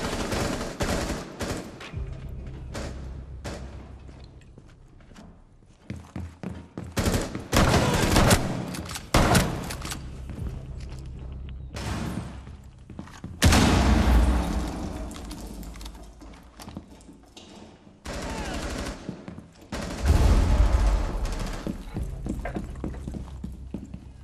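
Gunfire in Rainbow Six Siege with gold-camo weapons: loud bursts of automatic fire and single shots in irregular clusters, with heavy impacts and quieter gaps between volleys, no voices.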